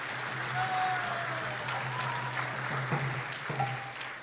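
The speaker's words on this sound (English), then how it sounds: "So please give a big round of applause to them." An audience at a Sunday feast applauds the cooks, with dense, steady clapping throughout, moderately close.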